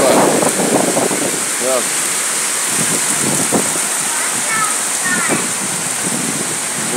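Heavy rain pours down in a steady, dense hiss around a house and its rooftop slab, with someone talking briefly and scattered speech sounds over the downpour.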